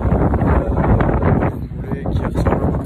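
Strong outdoor wind buffets the microphone in loud, gusty low rumbles that ease briefly before surging back, with a faint rustle beneath and no clear speech.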